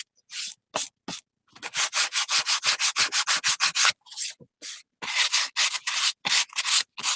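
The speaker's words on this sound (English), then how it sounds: "this is just regular sandpaper" Regular sandpaper rubbed by hand over a Paperclay art journal cover, loud close rasping strokes in quick rhythmic bursts with brief pauses between runs.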